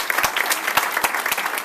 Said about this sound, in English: Should we give her a clap?